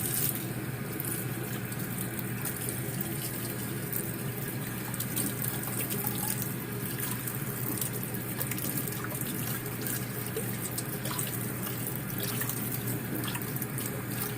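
Canned beans rinsed under a running kitchen tap, with a steady broadband rush of water pouring into the sink for the whole stretch, close and continuous, with no talk.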